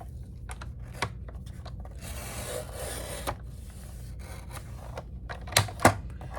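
Paper envelope cut open across the top with a craft tool, a quiet run of dry scraping and rustling with scattered small ticks and two sharper snips near the end, close and without talk.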